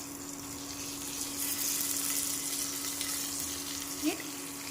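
Stuffed brinjals sizzle in a turmeric tempering in a pressure cooker pan, a continuous close hiss of frying with a faint clink near the end.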